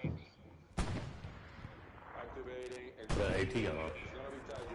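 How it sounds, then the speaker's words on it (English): Rockets lobbed at tanks in a war video game land as sharp, loud blasts, one early and a bigger one later, with low rumbling and radio-style voices talking in between. "I'm about to just start, like, lobbing rockets at these tanks"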